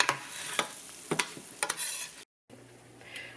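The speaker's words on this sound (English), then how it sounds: "So my rice is browning." Rice browning in canola oil in a pan, a soft steady sizzle with a few sharp stirring scrapes and clicks, fairly quiet, with no talking.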